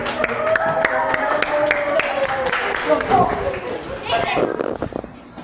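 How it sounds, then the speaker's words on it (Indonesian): A classroom of students claps for the first group as it comes forward, an uneven scatter of hand claps mixed with children's chatter and voices that thins out toward the end. "Kita beri tepuk tangan untuk kelompok 1"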